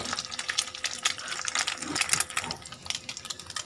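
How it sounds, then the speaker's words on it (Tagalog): Liquid pours into a pan while a simple Filipino breakfast dish cooks, giving a continuous close gurgling and splashing rush with small bubbling fluctuations and no talk. "Buhos ko na lahat para matapos na yan."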